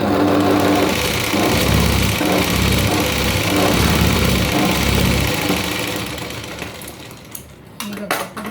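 A sewing machine runs a double line of stitching on a blouse yoke strip, a loud, close, continuous motor hum that stops partway through, followed by a few sharp handling clicks.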